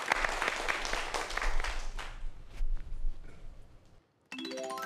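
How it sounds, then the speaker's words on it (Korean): An audience claps at a Korean astronomy talk, loud dense applause with a low rumble that thins out and fades over a few seconds, followed by a brief silence and then a rising synthesized musical jingle. "큰 박수 다시 한번 부탁드립니다."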